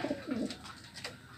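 Racing pigeons cooing close by in a loft, a few soft throaty low coos in quick succession with light background rustle, no talking.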